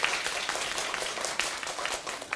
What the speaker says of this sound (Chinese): 来鼓掌一下